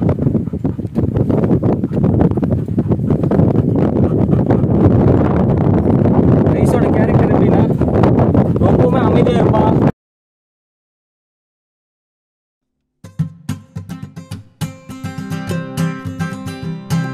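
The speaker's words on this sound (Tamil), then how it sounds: "காத்து இழுத்துட்டு போயிரும் போல, அந்த அளவுக்கு அடிக்குது காத்து." Strong wind blows on a mountain, a loud, continuous roaring buffet against the microphone for about ten seconds, then silence, followed by quieter sounds.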